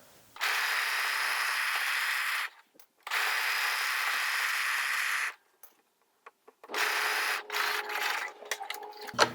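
A sewing machine stitching the back seam of a 1950s vintage-style coat at a half-inch seam allowance, running in two steady loud bursts with brief pauses, then shorter, choppier runs toward the end.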